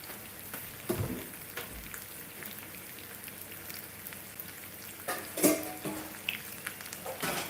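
Coriander leaves are rinsed under running water in a home kitchen, a quiet, steady splashing with a few sharper knocks and clatters.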